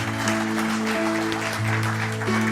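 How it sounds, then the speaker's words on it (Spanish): Church congregation applauding during a service, a steady wash of clapping over sustained keyboard or organ chords that hold throughout. "denle un fuerte aplauso al Señor"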